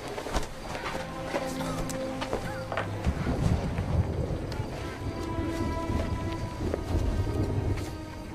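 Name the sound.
thunderstorm with rain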